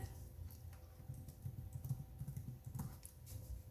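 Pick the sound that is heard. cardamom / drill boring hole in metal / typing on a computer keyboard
typing on a computer keyboard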